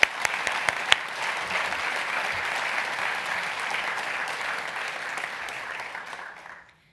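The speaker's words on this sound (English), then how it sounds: "Round of applause for Rhoda." Audience at an award presentation applauding an honoree, a few sharp claps standing out at the start before a dense, even round of applause that holds steady and then fades out near the end.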